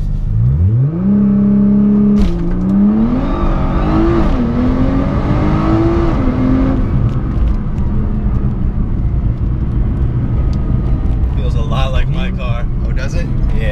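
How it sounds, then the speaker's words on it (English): A Nissan GT-R launches hard from a standstill, its engine note climbing in loud, close sweeps through a couple of quick gear changes heard from inside the cabin. It then settles into steady road and wind roar as voices chatter toward the end. "I'm going to be showing Stealthy RS 0 to 60 in a GTR."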